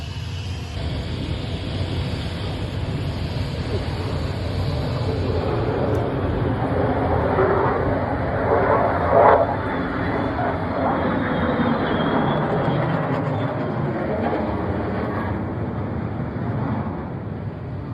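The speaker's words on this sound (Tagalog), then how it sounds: "Biglang dumaan sa himpapawid ang isang B-2 bomber at mga F-22 fighter jet" A B-2 bomber and F-22 fighter jets fly overhead, a steady broad jet roar that swells slightly in the middle and then holds at a constant level, with no talking.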